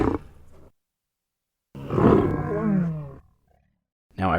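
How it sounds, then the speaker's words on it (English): A Chewbacca-style creature voice built from badger snarls and growls blended with lion and tiger roars, heard as a brief growl, then a long rising roar with a strong warbling tone, and another growl starting at the end. "the snarls or growls of a badger mixed with the lion and tiger at the end"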